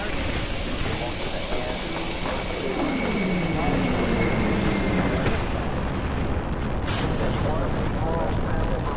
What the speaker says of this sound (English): We have takeoff.